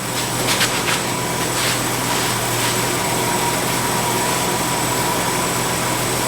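A small engine runs after its carburetor has been reset to factory settings, holding a steady, slightly high idle: a continuous, fairly loud drone with no pauses and no talking.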